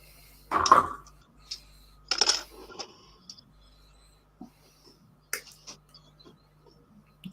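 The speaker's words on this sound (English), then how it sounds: "We'll snip that bit there." Cutters snip a plastic part of a Bedford OLBD five-ton dropside truck model kit from its sprue, giving a few sharp, isolated clicks and small taps spread across quiet moments, close by, with no talking.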